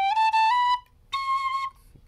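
Two clear, close notes on a tin whistle played with an alternate octave fingering, the first with a slight pitch rise, separated by a short gap, no talking.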